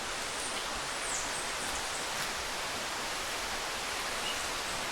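Waterfall in El Yunque rainforest, Puerto Rico, a steady broadband rush of falling water that holds at a constant moderate level throughout with no voices.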